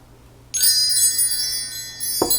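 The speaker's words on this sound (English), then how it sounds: "So let's call it in spirit, some wind chime time." Wind chimes ring out suddenly with bright, sustained metallic tones that shimmer and slowly decay, then a second soft strike near the end, heard alone over a low background hum.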